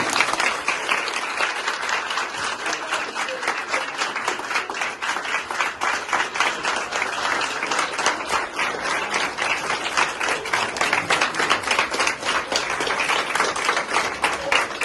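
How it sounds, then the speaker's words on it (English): A long round of applause from an audience at a personality development workshop for a performer, steady and fairly loud with dense clapping throughout, no voices heard. "Big round of applause for her"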